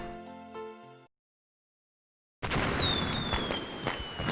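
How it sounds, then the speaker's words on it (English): Fireworks going off in the video game Normality: after a tonal musical passage and a short silence, dense crackling bursts and rising whistles fill the second half, loud and continuous. "fireworks are still going off"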